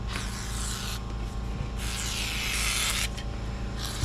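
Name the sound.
spraying liquid onto tire rim bead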